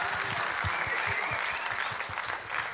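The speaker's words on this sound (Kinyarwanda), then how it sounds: "mwikomera amashyi cyane kabisa." An audience applauds steadily and fairly loudly throughout, a dense wash of clapping at an entertainment show, with no talk over it.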